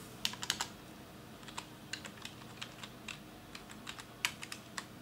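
Someone types a command on a computer keyboard during a PC benchmark on a Core i7 920 system, producing quick irregular bursts of soft, close key clicks with short pauses and no talk.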